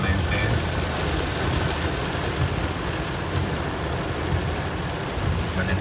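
Rain falls steadily around a car driving through a town in Sonsonate during June storms, a dense wash of patter mixed with low engine and road rumble, continuous throughout.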